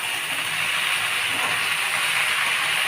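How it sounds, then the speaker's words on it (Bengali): Mixed leafy greens are stirred in a frying pan, giving a short, even hiss of steam and sizzle with no voices. "এবারে আমি নাড়ছি শাকটা"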